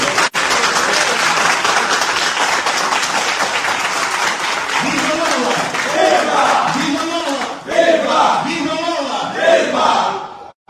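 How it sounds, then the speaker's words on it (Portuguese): Audience applause at a press event in an auditorium, loud clapping mixed with crowd cheers and shouts, giving way to rhythmic chanting voices in the second half. "Eu estou a falar para jovens, uma força de salva de palmas."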